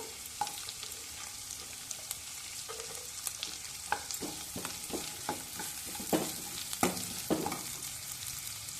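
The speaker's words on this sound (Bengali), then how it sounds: "আদাটাও একটু ভেজে নিয়ে কুচনো পেঁয়াজ দিয়ে দেবো" Chopped onion with garlic and ginger frying in a pan for palak paneer, a soft steady sizzle broken by frequent sharp spatula taps and scrapes, close and fairly quiet with no talking.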